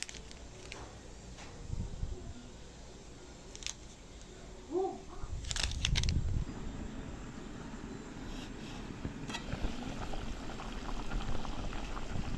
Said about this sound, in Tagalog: Drops. Ulan.